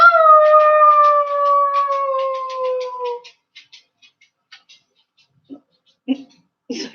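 A child imitates a dog with a long, loud, sustained howl that slowly falls in pitch for about three seconds, followed by quiet scattered faint sounds and short noises.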